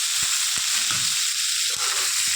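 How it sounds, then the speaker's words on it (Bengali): Chopped onion, tomato and green chilli fry in a pan of hot oil, giving a loud, steady close sizzle with a few faint stirring knocks and no talk. "এবার আমি দিয়ে দেবো পেঁয়াজ কুচি, আর দেবো টমেটো আর কাঁচা লঙ্কা কুচি।"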